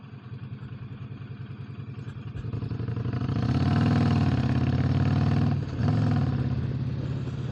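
A motorcycle engine thrums steadily, swelling louder as it accelerates, with a brief jolt and dip in the rumble partway through as the bike rolls over tracks.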